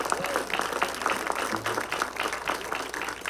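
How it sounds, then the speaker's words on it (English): A crowd at an event claps in warm applause, a brisk patter of many hands at moderate distance lasting a few seconds, with faint voices mixed in. "Give a warm, rousing round of applause"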